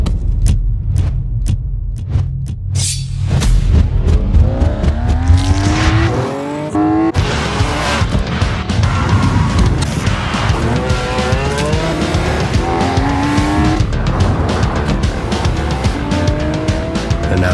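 A 2016 Lamborghini Aventador SV revs hard and accelerates, its engine climbing through rising gear pulls, with long tire squeals and skidding as it drifts. The sound is loud, close and continuous.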